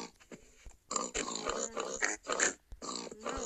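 Several pigs grunting and snorting in the Minecraft video game, a burst of short rough grunts in close succession at moderate level, with no speech over them.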